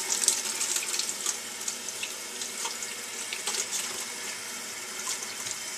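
Water runs steadily from a tap into a bathtub at bath time, a continuous close splashing hiss with no talking over it.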